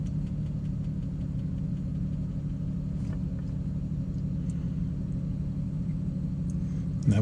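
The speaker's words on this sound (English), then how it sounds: "quick video of start up and idling on this XJS 6 litre" A 1993 Jaguar XJS coupe's 6.0-litre V12 idles hot after start-up, a steady, smooth low rumble with an even mechanical hum and no revving, ending with a brief bump at the very end.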